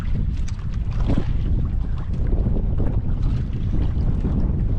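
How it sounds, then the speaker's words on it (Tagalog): Strong sea wind buffets a small fishing boat, a loud, steady roar of gusting air and churning water close to the microphone, continuous throughout. "Grabe, naglakas din ang hangin ha."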